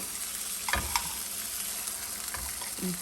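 Sauce hits a hot pan holding tomato and egg on low heat, giving a steady close sizzle with a few stirring clanks and scrapes. No one speaks.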